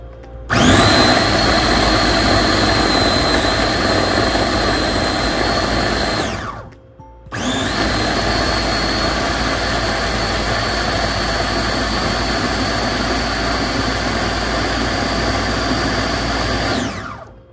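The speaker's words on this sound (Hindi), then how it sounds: "आपके पास कोई भी इस तरह की ग्राइंडिंग मशीन हो तो उसको एक पॉज देते हैं ताकि उसकी मोटर गर्म ना हो ज़्यादा" An electric grinder's motor roars loud and steady as it blends tomatoes into a chutney for mandi, with a brief pause partway through before the whirring starts up again, and no one speaks.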